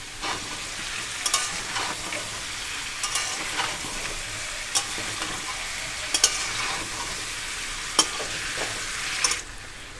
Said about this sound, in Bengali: ইঁচড়টা এখানে আমার ভাজা হয়ে গেছে।